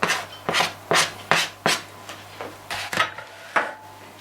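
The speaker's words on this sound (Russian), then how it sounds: "Пока все перемешиваем." A spoon scrapes and stirs a mushroom and rice patty mixture in a bowl, making about ten short, evenly spaced rasping strokes up close.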